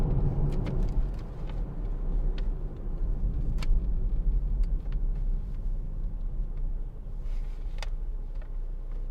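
A 2013 Hyundai i40 1.7 CRDi diesel estate is driven on the road, heard from inside the cabin as a steady low rumble with soft engine drone and occasional faint clicks and knocks.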